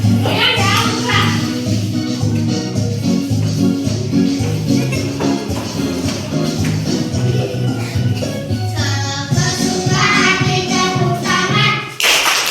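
Children clapping hands along to a song during an ice-breaking activity, rhythmic claps blended into loud music and singing voices throughout.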